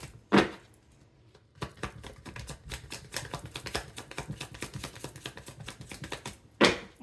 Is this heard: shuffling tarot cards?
yes